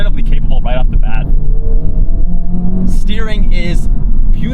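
Inside a 2023 Honda Civic Type R FL5 on a canyon drive, the engine rumbles steadily and revs, with a quick gear-shift sound, while someone talks over it throughout.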